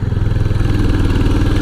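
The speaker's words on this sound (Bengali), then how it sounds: "প্রথমবার পাহাড়ে চড়াইয়ে গাড়ি চালাচ্ছি" A motorcycle engine labours up a steep hill road on the way from Siliguri to Mirik, a loud, close, steady mid-pitched drone with a rapid pulsing beat.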